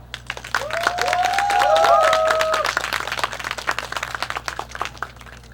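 Applause from the crowd at an evening outdoor youth concert in Suncheon, a moderate patter of clapping that swells in the middle and thins toward the end, with faint tones underneath.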